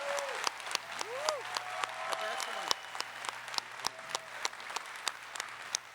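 A convention audience at a Star Trek 50th anniversary panel claps and cheers, with distinct, sharp individual claps over a room murmur and faint voices.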